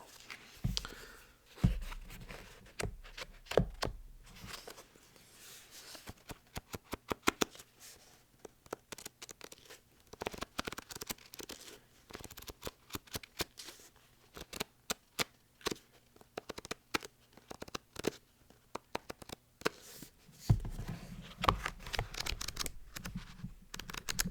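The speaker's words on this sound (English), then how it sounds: "These pages are like pretty thick, so I think they make like better page turning sounds" Sharp, irregular crackles and swishes of stiff paper pages being turned and handled up close, many short rustles scattered across a quiet background.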